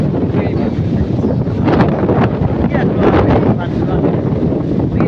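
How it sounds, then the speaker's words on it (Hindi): Strong outdoor wind in Peshawar buffets the microphone in a steady, loud roar with gusty swells and no breaks. "ये देख हवा चल रही है"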